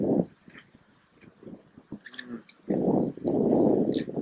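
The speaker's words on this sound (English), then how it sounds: "that even the small chippies, they're still really crunchy." Crunchy tortilla chips from fish nachos with salsa being chewed close up outdoors, bursts of loud crunching chews with a quieter stretch of soft mouth noises in between.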